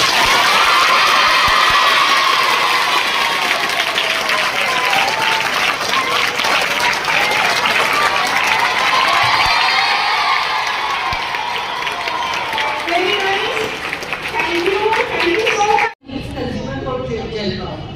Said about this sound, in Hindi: और तालियां ऐसी बजाओ